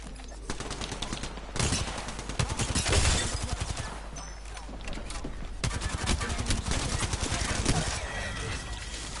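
Gunfire in the shooter game Apex Legends: bursts of rapid automatic shots and scattered single rounds, loud and close, with players talking over and between the volleys.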